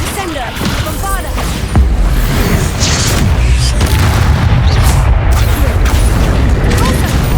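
Explosive Bombarda spell booms from Hogwarts Legacy combat, loud and heavy, with a big low-frequency blast thundering through a dense battle mix while a player shouts spell names over it.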